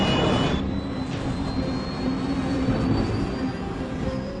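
An aircraft engine drones loud and steady during a steep climb, a continuous roar with sustained whining tones and no talking.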